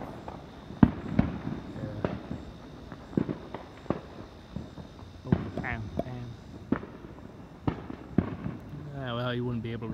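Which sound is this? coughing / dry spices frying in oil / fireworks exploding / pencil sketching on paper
fireworks exploding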